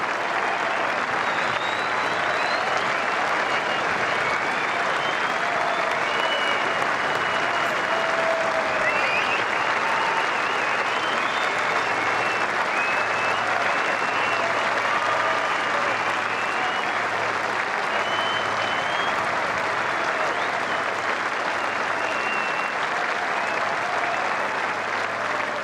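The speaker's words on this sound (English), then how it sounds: "Let's listen to the applause for him" Sustained applause from a large golf crowd at the Open Championship greets a Masters champion during the final round, a steady dense wash of clapping with faint distant murmur, no talk.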